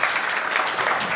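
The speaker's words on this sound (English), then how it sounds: "Please join me in applauding this panel for their intervention." An audience applauding a panel at a conference, steady dense clapping from a crowd heard close and fairly loud throughout, with no voices over it.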